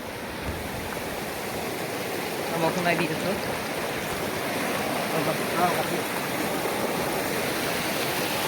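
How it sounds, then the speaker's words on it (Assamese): River water at Bhutan Chowki, a picnic spot, rushes and laps in a steady broadband wash close by, with someone talking briefly over the flow. "পানীৰ ঢৌ চাউণ্ড"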